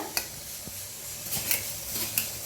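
Grated jaggery and lentils are stirred in a hot wok while making a sweet lentil filling: a soft steady sizzle runs throughout with occasional light scrapes and taps of the spoon, close and fairly quiet, with no talking.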